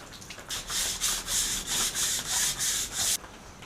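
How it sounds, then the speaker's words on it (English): Rhythmic hand scuffing of an aluminium wheel barrel from a Nissan 350Z, about eight close, even back-and-forth abrasive strokes with a steady scratchy rasp, stopping abruptly near the end. "I'm going to flip it over and scuff up the barrel and clean up the mating face"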